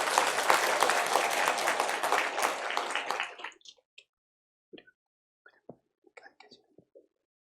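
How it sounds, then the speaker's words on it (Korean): A church congregation claps loudly for about three and a half seconds to celebrate a baptism at a Sunday worship service, then the applause breaks off into a few scattered faint knocks and rustles. "우리 힘차게 축하의 박수 하겠습니다"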